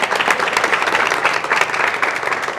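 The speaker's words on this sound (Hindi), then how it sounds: "एक बार मैं चाहूँगा कि आप सब करतल ध्वनि से अपने सम्मान में जोरदार तालियाँ बजा लें।" Audience at a network marketing gathering clapping loudly and steadily, a dense burst of applause throughout the short stretch.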